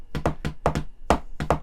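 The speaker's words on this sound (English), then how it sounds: "But the 8/6 polyrhythm is going to sound like this" A drum pattern of paired, sharp hits repeats in a quick uneven rhythm, played close and clear with no voices, demonstrating an 8:6 polyrhythm.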